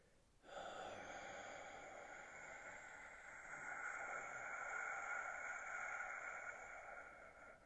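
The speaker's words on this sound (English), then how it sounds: "let's close our eyes together and let's exhale everything out of our lungs" A long, steady breath pushed slowly out of the lungs during a guided meditation, a soft airy rush that starts abruptly and holds near and fairly even for about seven seconds, with no talking.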